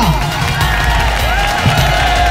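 A crowd cheering and shouting with some clapping at a Pola festival comedy and mimicry show in Nagpur, loud and continuous with whoops over a dense audience roar.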